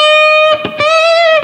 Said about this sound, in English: hook it up to a cranked up tube amp and make some sounds like this